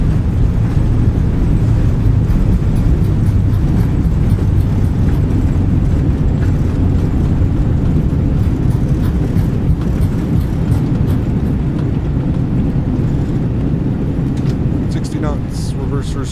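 Flight-simulator airliner on landing rollout with thrust reversers deployed, heard as a loud, continuous broadband engine roar that holds steady throughout, with a few faint clicks toward the end.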